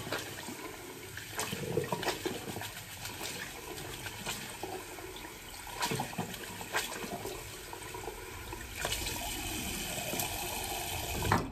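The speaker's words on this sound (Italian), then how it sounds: "mi sciacquo le mani, mi sciacquo il pennello" Tap water runs steadily at a basin while hands and a shaving brush are rinsed after a shave, a constant close splashing gush with intermittent spattering bursts and no talk.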